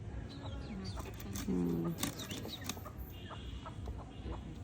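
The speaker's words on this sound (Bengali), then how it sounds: "মুরগি কি জ্বালাইতেছে দেখছেন" Chickens cluck and squawk close by while fish is being cut, with a short murmur and some background voices mixed in.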